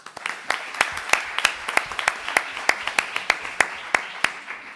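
Applause from a conference audience welcoming a speaker to a talk on child sexual abuse: sparse, distinct claps from a small group, steady and fairly close, with no speech over them.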